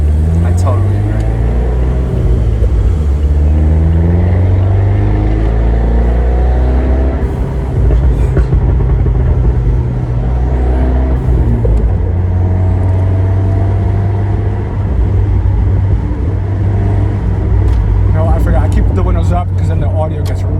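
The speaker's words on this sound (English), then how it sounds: "this is one of the best modern sounding 4-cylinders" A tuned Abarth 124 Spider with a 1.4-litre turbo four-cylinder and an EC Phase 3 tune burbles and drones while driving, heard from inside the cabin with people talking over the engine.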